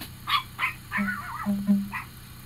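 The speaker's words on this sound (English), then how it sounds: "And the dogs are barking." Dogs barking in a quick series of short barks and higher yips, fairly close and loud against a quiet background, with no talking.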